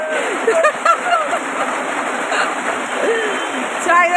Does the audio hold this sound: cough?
no